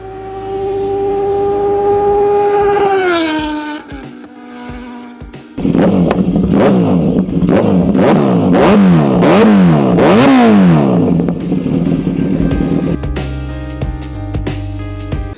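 A Kawasaki Z900 motorcycle engine revs on a highway: a long rising wail, then a series of sharp rev-and-drop cycles, loud and close, with no talk.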